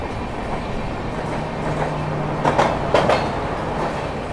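A passenger train running on rails on the Mumbai to Pune route through the Ghat section, giving a steady rumbling roar with faint clickety-clack wheel beats and a brief low hum, heard from inside the carriage.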